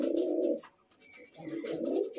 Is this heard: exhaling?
no